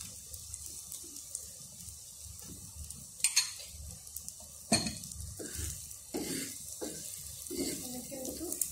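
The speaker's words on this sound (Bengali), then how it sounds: "আমি কিন্তু আস্তে আস্তে সুন্দর করে পরোটাটা ভেজে নেব।" An egg paratha fries in a pan with a steady close sizzle, broken by several sharp scraping and clinking knocks of a utensil against the pan.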